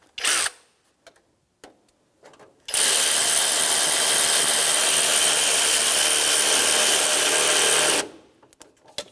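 An electric ratchet drives a 10 millimeter socket on a 1992-1996 Ford F-150 during AC condenser work, whirring loudly and steadily for about five seconds after a few short clicks and handling noises.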